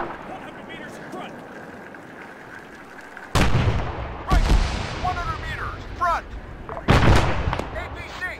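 Gunshots crack out during a battle reenactment at Mariental (Horst) in November: a sharp blast around three seconds in, a couple more close volleys, then another loud shot near the end, with shouting and outdoor background noise between.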